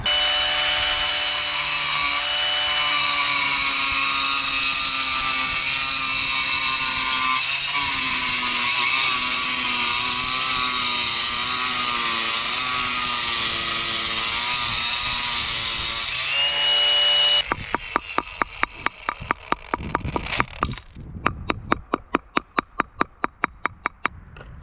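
A power tool cutting stone for a veneer sitting wall: a loud, steady, high-pitched whining grind that runs for about seventeen seconds, then a series of rapid sharp knocks and scraping strikes.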